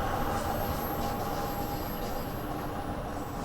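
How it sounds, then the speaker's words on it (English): A train in Train Sim World rumbles steadily on the rails as it brakes toward a stop, with a continuous low rolling noise and a faint thin squeal of wheels over it. "Now I'm having trouble bringing the train to a stop."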